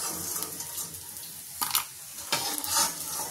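Edible gum (dink) frying in hot oil in a kadhai, a steady close sizzle with brief louder bursts of stirring and bubbling, alone with no voices.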